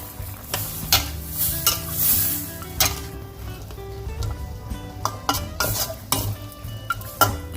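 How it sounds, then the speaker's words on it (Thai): Bamboo shoots being stirred into a pot of Thai jungle curry with pork bones, with repeated scraping and clinking of a utensil against the pot over a soft simmering hiss, close by and with no talk. "เราก็ใส่หน่อไม้ลงไปนะคะ"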